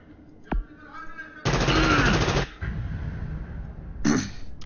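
Gunfire in the tactical video game Frontline Tactics: a sharp single shot followed by a dense, loud automatic burst lasting about a second, then a quieter pause and one more short burst, with no talking.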